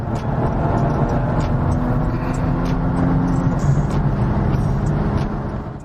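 A modified 520-horsepower Infiniti Q50 V6 drives at speed with a steady, loud cabin engine drone and road roar. The engine note shifts briefly between gears, with no talking.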